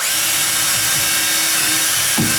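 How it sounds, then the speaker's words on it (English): A power drill set on high bores at a slight angle into a 2x4 stud while fixing sagging double doors. It gives a steady, close, continuous grinding whir with a sharper burst near the end. "I'm going to drill right there."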